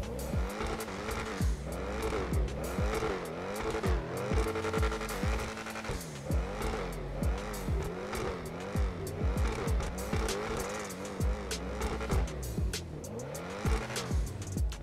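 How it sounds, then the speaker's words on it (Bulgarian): Supercar engine in the video game GTA 5, revving up and down in repeated sweeps with screeching tire squeal and skidding, loud and continuous throughout with no talking. "Нещо друго, за което се чудех, е дали самия звук на колата е променен."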